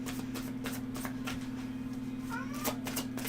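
A cat gives one faint, brief meow partway through, over a constant low electrical hum and scattered soft clicks and rustles.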